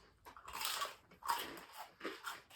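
Someone bites into crunchy chicken fingers, giving three close, crisp crunching bites spaced across a couple of seconds, with no talking.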